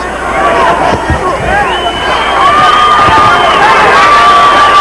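A boxing arena crowd roars and cheers during a Roy Jones Jr. bout against Fermin Chirines, a loud sustained wall of shouting that swells toward the end.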